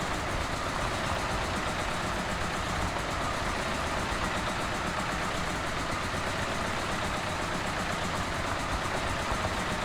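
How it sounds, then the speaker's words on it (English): In Farming Simulator 17, a John Deere 850 tractor idles with a steady, unbroken engine rumble for the full ten seconds, close and even, with no speech. "The John Deere 850 here, which is, as far as I know and from what everyone has said, is not actually a real tractor."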